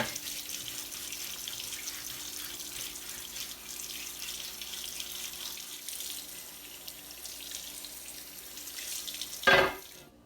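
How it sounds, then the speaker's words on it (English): Hot water runs into a sink as a cast iron grill pan is scrubbed with a blue scrubby pad, a faint, steady hiss of flowing water ending with a brief louder splash near the end. "I'm just gonna use my blue scrubby, some hot water, and just begin to scrub off this residue off of my grill pan."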